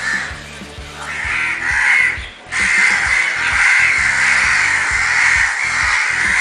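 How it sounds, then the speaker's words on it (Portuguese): Several crows caw harshly and repeatedly, loud and close, over a steady rhythmic background; the calls overlap in a continuous raucous chorus. "os corvos perseguem, bicam e irritam a coruja"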